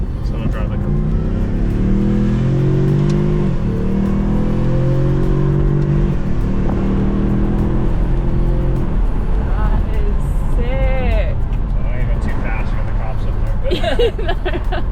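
The four-cylinder EcoBoost engine of a 2021 Ford Mustang pulls hard with a rising, droning note, then shifts and steadies while people talk over it inside the car.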